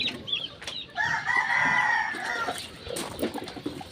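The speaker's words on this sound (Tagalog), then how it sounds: "Yan mo na mga kasabong kong manok." A gamecock rooster gives one clear crow at breeding time, fairly close, with faint clucks and other birds around it.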